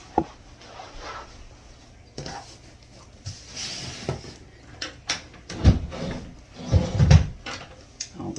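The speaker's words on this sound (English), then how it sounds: "What is going on with that dresser drawer?" A dresser drawer that has come off its track is pulled open and pushed shut several times, giving uneven wooden scrapes and knocks that grow louder and more frequent toward the end, with no talk.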